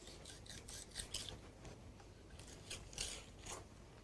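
A knife scrapes the skirt off plaice fillets in a kitchen, giving repeated rasping strokes in short bursts, close and fairly quiet, with no talking.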